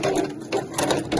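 A sewing machine runs in short bursts close by as it stitches the bound edge of a fabric placemat. The needle chatter is rapid and mechanical, with a brief pause between runs.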